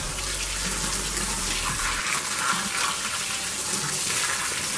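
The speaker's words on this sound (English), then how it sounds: "So I got the water working." Water runs steadily from a garden hose onto BMW wheels being washed outdoors, a continuous hissing spray at close range, fairly loud and unbroken throughout.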